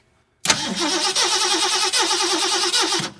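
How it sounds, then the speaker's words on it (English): A 1969 Ford Mustang with 59K original miles, left sitting over 30 years with a weak spark, cranks steadily on its starter on charger power, a loud rhythmic churning that starts abruptly after a moment of silence and runs without catching. "I hooked up a battery charger and I hit start, whatever you want to call it, engine start."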